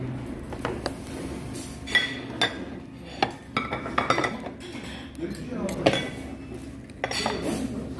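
Rice being scooped from a hot stone pot of pumpkin rice into a bowl at a Korean ssambap restaurant, with scattered clinks of dishes and cutlery, a few sharper knocks standing out over a steady room murmur.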